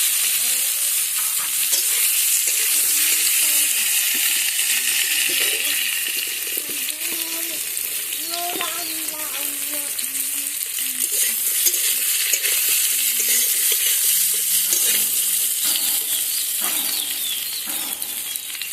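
Boiled, chopped mukhi taro is stirred into onions frying red-brown in a pan for hilsa curry, a loud continuous sizzle with spoon scrapes and bubbling throughout.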